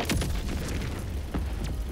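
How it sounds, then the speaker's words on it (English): Orbital strike explosion in Helldivers 2: a deep, sustained rumbling boom with layered blasts rolling through the full two seconds, loud and close, with no voices. "Firing orbital strike."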